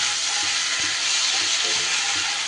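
Ginger and green chili paste sizzles steadily in hot oil in a pan, a dense, loud frying hiss with faint stirring knocks underneath and no voices.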